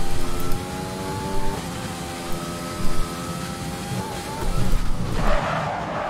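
An F1 car spinning out in the racing game F1 2020: a steady high engine whine shifting pitch, then tyre scrub and rough skidding noise as the car loses grip, loud and close.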